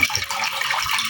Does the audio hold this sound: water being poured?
yes